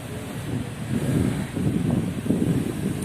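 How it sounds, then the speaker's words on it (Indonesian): Breeze blowing steadily across an open park in Jakarta, a soft continuous rush of wind noise with gentle swells, heard alone without talk. "Banyak angin yang sepoi-sepoi ya."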